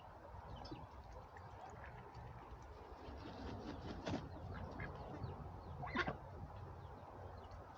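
Ducks in a farmyard swimming area giving a couple of faint, distant quacks over a steady outdoor background hum.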